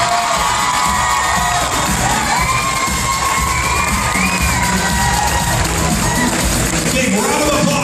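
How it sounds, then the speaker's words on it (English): At a muscle model world championship awards in Las Vegas, the crowd roars with loud sustained cheering, whoops and shouts, with some voices rising above the dense, continuous noise. "Big round of applause for our world champ, AJ Ellison."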